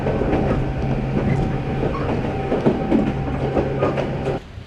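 Small train of the Kurobe Gorge Railway running along the track, a loud steady rumble with rhythmic clickety-clack of wheels over rail joints, close by and continuous, ending with a slight drop.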